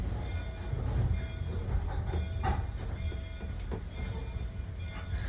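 Illinois Railway Museum train cars inching forward slowly, heard from a caboose cupola with open windows, a low rumbling roll with faint hiss and occasional creaks and clanks, steady and close.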